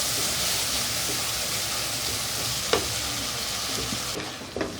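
Spice masala of coriander powder, red chili, black pepper and turmeric frying and sizzling in a pan for black chana, a steady loud hiss with occasional spoon scrapes and stirring knocks.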